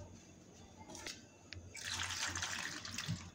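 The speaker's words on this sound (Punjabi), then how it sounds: "ਹੁਣ ਇਸ ਤਰ੍ਹਾਂ ਪਾਣੀ ਦੇ ਨਾਲ ਇਹਨੂੰ ਆਪਾਂ ਸਾਫ਼ ਕਰ ਲਵਾਂਗੇ" Mushrooms are rinsed under running water in a kitchen: faint background hum, then tap water starts pouring and splashing steadily for the last couple of seconds.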